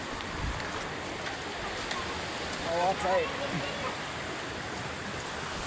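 A river rushes past in a steady, broad wash of flowing water, heard close, while people talk over it.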